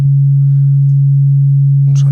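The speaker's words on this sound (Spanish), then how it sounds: "Un tono puro, sine wave, de 139 hercios." A pure sine wave tone at 139 hertz hums alone, perfectly steady and loud for about two seconds, with a faint voice starting just at the end.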